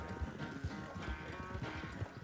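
Horse hooves clip-clopping in the Red Dead Redemption 2 video game, a steady galloping rhythm of repeated thuds with a faint whinny, heard close over background game ambience.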